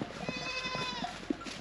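Sheep bleat in a home barn during lambing season, several short nasal calls spaced across the moment over a steady hum, one louder bleat standing out near the end.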